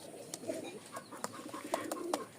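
Pigeons, including Rajshahi Giribaz birds, coo softly in a low, faint murmur, with a few short sharp taps or flutters breaking through.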